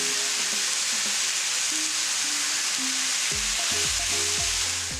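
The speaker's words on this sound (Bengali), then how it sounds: "ভালো করে পেঁয়াজ ভাজার সাথে মিশিয়ে ভেজে নিতে হবে, মোটামুটি তেল ছাড়া অবধি" Chicken fries with onions in hot oil in a pan, giving a loud, continuous close sizzle with a few low tonal sounds underneath.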